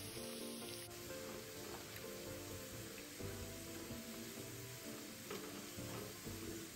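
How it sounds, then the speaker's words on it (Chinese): Sliced shallots deep-frying over medium heat in about 250 ml of cooking oil, making a faint, continuous bubbling sizzle with an occasional soft stir, with no speech. "油热后，倒入备好的小红葱，炉保持中火，一直油炸至葱片转金黄色。"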